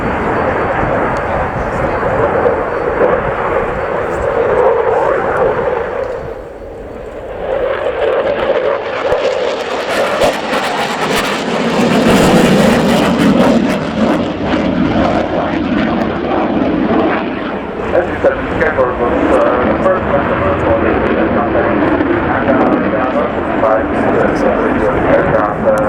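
A Czech Air Force Gripen fighter jet roars through a flying display at the RIAT air show at Fairford, its loud engine noise rising and falling steadily throughout as a commentator talks over it.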